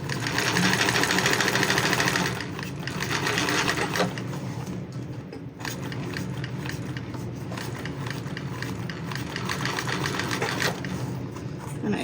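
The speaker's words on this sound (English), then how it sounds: "it's hard to know when you are sewing with a new machine" A sewing machine, a model 1341, runs steadily while stitching a bag, giving a close, continuous rhythmic whir throughout, with no talking.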